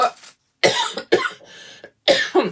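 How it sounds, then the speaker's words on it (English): A series of harsh, close coughs in quick bursts, loud and raspy, with short gaps between them. "That silly morning cough."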